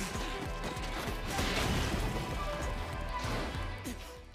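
A stone pillar shatters during an anime fight, heard as a loud crashing, smashing burst with rumbling debris that swells and then fades over several seconds.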